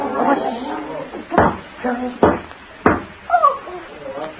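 Three sharp knocks on a door, evenly spaced, cutting through voices talking nearby.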